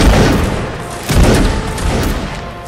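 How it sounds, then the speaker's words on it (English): A loud, close musket volley in a Mount and Blade Napoleonic battle, several ragged crackling discharges rolling together into booming, echoing fusillades with no talking. "Let me get my guys on position to volley."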